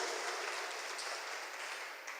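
A church congregation claps together in sustained applause, a dense, bright patter of many hands that carries on evenly and tails off slightly near the end, with no voices over it.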